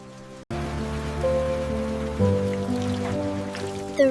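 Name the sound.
rain falling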